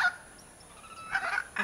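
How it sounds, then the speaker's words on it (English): Large macaws squawk loudly, giving a harsh, penetrating call close by, with a short burst near the end. "It's like really loud. Squawky. Penetrating call,"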